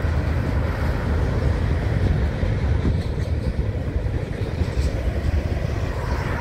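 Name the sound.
freight train with IC SD70 and CN SD40-2W locomotives passing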